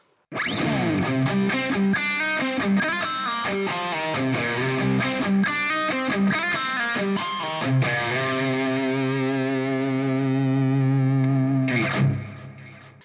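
An electric guitar plays through a Hotone Ampero Mini amp modeler preset with heavy effects, a run of picked notes and chords, then a sustained ringing chord before cutting off.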